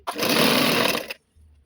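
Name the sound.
sewing machine stitching dress pants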